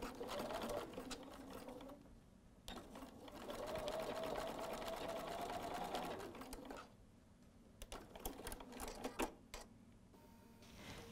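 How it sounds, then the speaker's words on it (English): A Bernina sewing machine stitches down a tote bag strap, its motor running loud and steady in long bursts with brief stops between runs and a final stretch of quieter stop-start stitching. "That just shows us how strong our Bernina really is."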